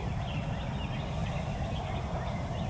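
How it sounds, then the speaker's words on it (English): Wild turkeys gobble in the dark before dawn on a youth crossbow hunt in Ohio, a steady rolling gobbling that fills the clip, fairly distant but clear, with no talk. "That's a gobble."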